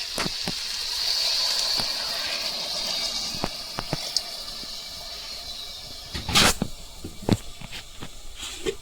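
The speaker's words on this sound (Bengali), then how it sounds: "আমি এখন জল দিয়ে দিই" Water pours into a pan of vegetable curry made with chickpeas, peas, carrots and potatoes, a brief hissing gush near the start followed by a few clanks and taps of utensils, close and moderately quiet.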